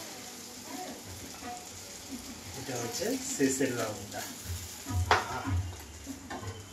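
Tilapia fish pieces frying in a pan, a soft steady sizzle with some stirring and clinks, heard under a voice speaking at close range.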